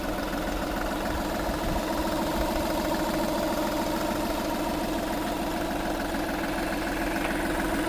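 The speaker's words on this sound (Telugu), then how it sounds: "డీజిల్ ఇంజిన్ అండి ఇది" A 2014 Volkswagen Polo diesel engine idles close by, giving a steady, even rumble with a faint rhythmic knock throughout and no talking over it.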